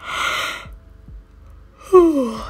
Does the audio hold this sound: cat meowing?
no